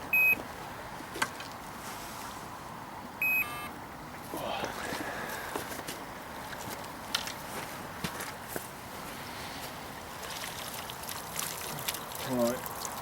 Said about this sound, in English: Turn that alarm off, please.